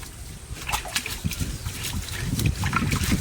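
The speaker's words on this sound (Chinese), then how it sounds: "再把它清洗一下，特别是牙齿这个地方" Running water splashes and dribbles over a blanched beef head as it is scrubbed, especially around the teeth, in close uneven bursts that build toward the end, with no talk.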